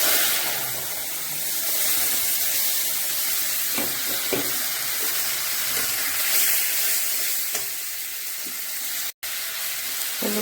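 Fish sizzling in hot oil tempered with cumin seeds, a loud, continuous hiss close by with occasional pops and crackles, no voices.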